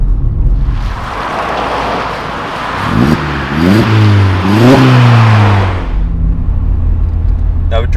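A Vauxhall Astra VXR Nurburgring with a 2-litre engine, heard from inside the car, rumbles steadily, then revs up in several rising surges before settling back to a constant drone.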